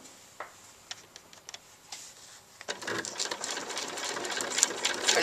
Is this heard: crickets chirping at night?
no